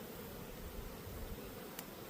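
Honey bees humming around an open hive during a nectar flow, a steady dense buzz holding throughout with no voices.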